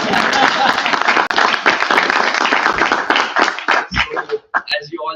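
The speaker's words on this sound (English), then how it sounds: "let's first clap for yourself" A group at an ISA team reveal event claps for themselves, dense and steady clapping with scattered cheers and chatter over it, thinning out near the end as a voice and a few last claps remain.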